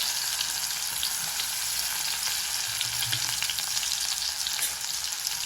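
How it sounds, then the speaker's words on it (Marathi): Crushed spice paste frying in hot oil for a fish curry, a steady dense sizzle and crackle that runs unbroken and loud throughout, with no voices. "तेल मस्त गरम झाले, याच्यात मी हा वाटण टाकते ठेचलेला।"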